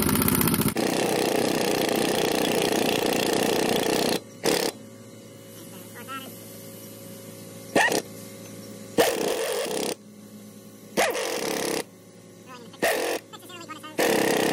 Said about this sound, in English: Next thing here, you're gonna go to star pattern. Gotta turn our air gun back up.